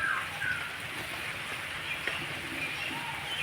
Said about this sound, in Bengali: তেলের মধ্যে ছেড়ে দেব যেভাবে বড়া ভাজে সেভাবে করে ভেজে নিতে হবে